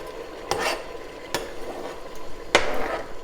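Chopped spices, peppers, shallots and onions frying in a pot for spinach with smoked fish, a soft sizzle broken by three distinct utensil scrapes and clinks against the pot, close and without talk.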